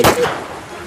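A single sharp gunshot sound effect in a Bengali ghost audio story: one loud, close burst that decays quickly into a faint tail.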